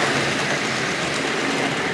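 Hornby Triang model train locomotives run steadily on a toy track, giving a continuous whirring purr and faint rail clatter at close range.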